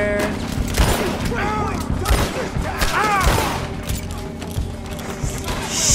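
Steady gunfire and battle noise from the Red Dead Redemption 2 video game, continuous and loud throughout with sharp bangs scattered in, and voices shouting underneath.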